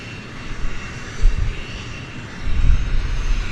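Engine of a medevac aircraft at Vancouver Airport, a steady broadband roar that swells twice as it passes, heard alone with no voices.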